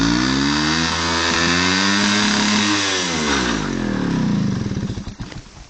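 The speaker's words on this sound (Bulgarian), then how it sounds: "може ли го изкара този мотор?" Motorcycle engine revving loudly up close, pitch sweeping down and back up in strong swells, then dropping into a choppy, sputtering idle before cutting off.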